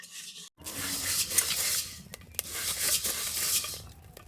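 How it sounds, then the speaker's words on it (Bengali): Dry scraping and rustling as grains are stirred around a metal pan, with light clinks of a utensil in steady bursts after a brief silence. "এবার এইভাবে চাল কাটি দিয়ে নেড়ে চেড়ে সুন্দরভাবে চাইলগুলো ভেজে নেবো।"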